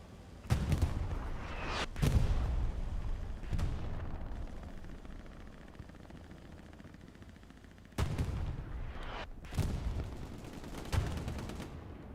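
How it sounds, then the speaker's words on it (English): Explosions from a bombing run in the World War II shooter Hell Let Loose, several heavy booms spaced across the stretch, some close and loud, others more distant, with rumbling tails between. "A bombing run?"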